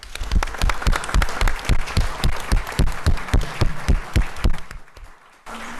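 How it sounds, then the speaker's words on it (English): Sustained audience applause with scattered cheers fills a council meeting chamber, loud and steady with sharp clapping bursts, then cuts out briefly near the end. "we were cheering for Lindsay"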